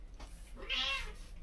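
A house cat meows once, a single drawn-out, rising-then-falling call heard up close indoors over a low steady background hum, with no talking.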